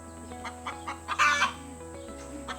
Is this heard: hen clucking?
yes